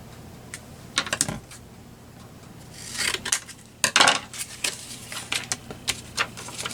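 Paper being cut with scissors for junk journal banner clusters: a series of close, crisp snips and rustles in irregular bursts, some sharper and louder, with no talking over them.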